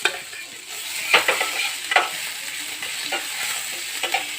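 Ginger-garlic paste hits hot oil with cinnamon stick in a pan, giving a soft continuous sizzle punctuated by a few sharp scrapes and taps of a spoon stirring, close and fairly quiet.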